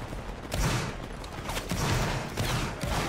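Line infantry in a Napoleonic Wars battle game fire a volley to the left, a continuous crackle of overlapping musket shots rolling on for several seconds amid battlefield din.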